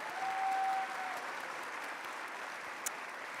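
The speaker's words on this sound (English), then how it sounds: "Let's give them a big round of applause." Audience applause at a formal evening address and gala, following a tribute to performers in Greek regional costumes; steady, dense clapping from a large crowd fills the room at moderate distance, holding level throughout.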